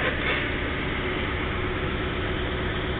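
A 1956 Morris Minor 950 engine, taken out of the car and running with the choke pushed in, idles evenly at 1,000 RPM. It makes a close, continuous rumbling drone with no voices over it.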